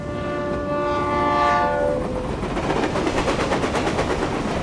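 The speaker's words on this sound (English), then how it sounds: "And why is the stupid train never on time?" In a video game set in Vienna, 1999, a train sounds a loud sustained horn chord as it approaches, which fades into a rhythmic clatter of wheels passing close by, with no voices.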